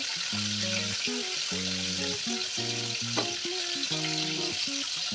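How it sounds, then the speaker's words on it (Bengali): Steady, close sizzling and spattering as katla fish fries in hot oil in a wok, with occasional stirring clicks, all under quiet background music. "তেলটাকে ভালোভাবে গরম করে নেওয়ার পর আমি মাছগুলোকে এর মধ্যে দিয়ে দিলাম দিয়ে উল্টে পাল্টে লাল করে ভেজে নেবো"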